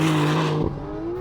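A Porsche 911 Turbo S on a race track, its engine note holding a steady tone before shifting lower and fading as the car moves off.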